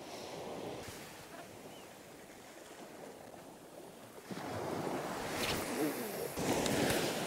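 Sea waves wash onto a flat UK beach as the tide pushes in, a steady rushing surf with wind noise that swells louder in the second half.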